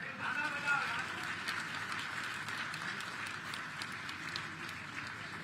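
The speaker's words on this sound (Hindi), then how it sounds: "ये जितनी कर ताली बजी" A large audience at an All India Radio FM station inauguration event claps in a sustained, dense burst of applause, heard from within the hall with a faint voice underneath.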